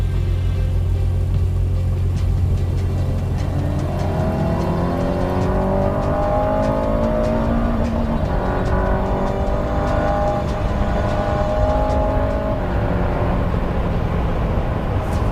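Aston Martin Valhalla engine starting and running in Sport Plus mode: a loud, steady low rumble with rising and falling revs, continuous throughout with no talking.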